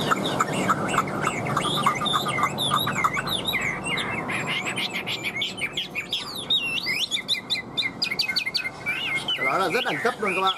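A caged hwamei, the Chinese melodious laughingthrush, sings loud and close in long varied phrases of rapid whistles, trills and swooping notes that run continuously with barely a pause.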